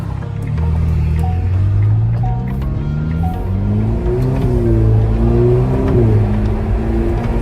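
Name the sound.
Ferrari Roma twin-turbo V8 accelerating, dual clutch gear shifts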